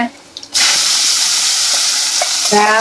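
Garlic and cumin tempering in hot oil for a Gujarati roti sabzi, a loud, steady broadband sizzle that bursts on suddenly after a quiet moment and continues close up, with faint clinks near the end.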